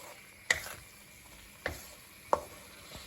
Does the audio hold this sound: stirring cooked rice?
yes